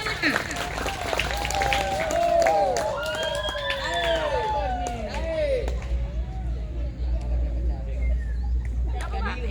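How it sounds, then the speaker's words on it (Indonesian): An audience at an indoor talk claps in a dense patter that lasts several seconds, mixed with lively crowd chatter and voices rising over it. "Tepuk tangan dulu untuk yang udah mau bertanya. Yang semangat tepuk tangan."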